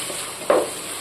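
Steady faint sizzle of tomatoes sautéing in oil in a pan, with a brief louder stir or scrape in the middle.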